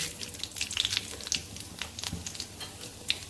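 Bay leaf and cumin seeds frying in hot oil in a pan, with close crackling sizzle and scattered sharp pops over a low steady hiss.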